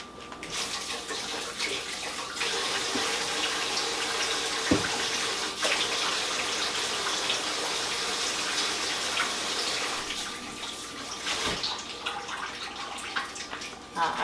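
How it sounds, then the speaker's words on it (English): Hands are rinsed under a running kitchen tap after seasoning a Cornish hen. The water streams steadily and fairly loud throughout, with a few clinks and splashes breaking through. "Let me rinse my hands."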